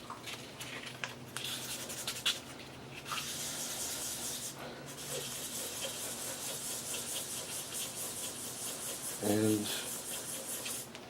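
Sandpaper wet-sands a plastic insert on an old pinball machine playfield, making a continuous close rubbing and scraping that holds steady for the whole stretch, with a brief word spoken over it.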